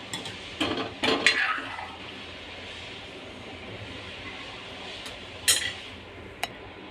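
A utensil clinks and scrapes against a pot of boiling shengole, a Maharashtrian dumpling curry, in a few short bursts over a steady low bubbling hiss, with quieter stretches between the stirring strokes.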